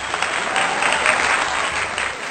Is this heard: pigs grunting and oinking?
no